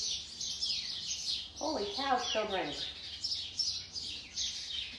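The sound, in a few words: fledgling birds chirping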